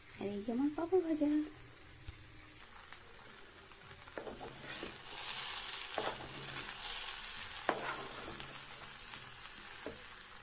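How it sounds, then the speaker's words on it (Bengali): Papad fries in a pan in a home kitchen, giving a soft crackling sizzle with scattered pops after a brief voice at the start, quiet and close. "আর এই যে আমার পাঁপড় ভাজা।"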